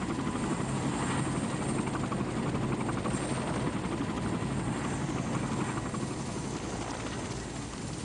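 Military helicopters of the Vietnam War era, rotor thump and turbine roar filling the whole stretch steadily and loudly with no voices.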